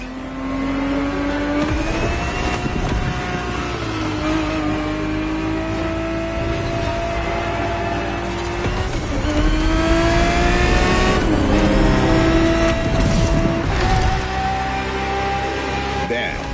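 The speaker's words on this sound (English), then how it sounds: "The Ferrari 365 GTB4 is the perfect vehicle for you to experience Ferrari racing as it felt back in the 70s" A 1970s Ferrari 365 GTB4 racing around a track, its engine loud and close, rising and falling through gear changes with repeated revving climbs, while a voice talks over it at times.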